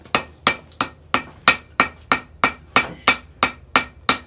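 A blacksmith strikes the edges and corners of a square metal piece with a hammer, twelve sharp ringing blows at an even rhythm about three per second, loud and close with no talk.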